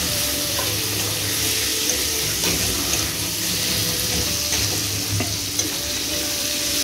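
Chopped tomatoes cooking and being stirred in a pan, a dense, loud, steady sizzle close up with faint occasional scrapes beneath it and no voices.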